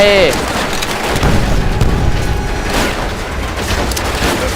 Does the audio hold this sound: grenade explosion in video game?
yes